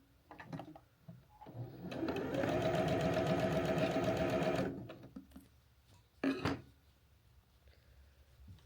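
A sewing machine stitches a small tote bag made from fabric squares, running in one steady burst of about three seconds, with shorter starts and stops around it for backstitching, close and fairly loud.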